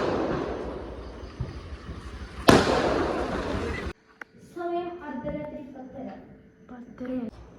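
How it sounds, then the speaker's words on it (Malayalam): Loud crackling bursts of firecrackers go off in a dense rush during Vishu celebrations, peaking in one sharp blast, then fade as voices and music take over. "കുറേ ആൾക്കാർ പടക്കം പൊട്ടിക്കുന്നുണ്ടായിരുന്നു"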